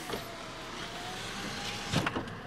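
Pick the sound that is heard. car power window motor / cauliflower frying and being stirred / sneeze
car power window motor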